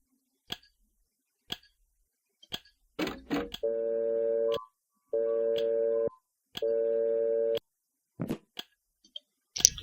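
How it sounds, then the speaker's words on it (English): Telephone ringing in the video game The Mirror Lied, three evenly spaced electronic rings about a second each, clear and close, with scattered clicks and taps between them and no talk. "the phone finally rings."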